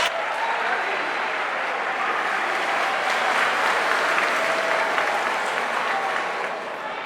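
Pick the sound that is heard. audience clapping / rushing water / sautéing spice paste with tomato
audience clapping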